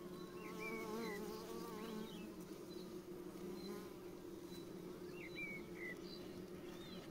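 Bees in a Kenyan top-bar hive hum in a dense, steady drone that stays close and loud throughout, with a few faint bird chirps high in the background.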